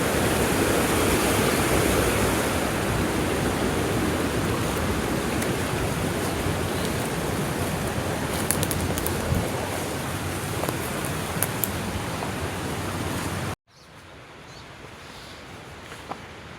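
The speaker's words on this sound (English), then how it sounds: "that's a lot of water coming" A loud, steady roar of water rushes into a canal at an old hydroelectric plant as a gate is barely opened, continuous and close, then cuts abruptly to a quieter flowing sound.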